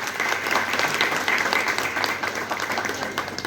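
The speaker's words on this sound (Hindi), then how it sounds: "हम सब एक बार इनके लिए जोरदार तालियां बजाएं।" A crowd at an annual celebration claps steadily and enthusiastically, a dense wash of applause that holds at an even loudness throughout.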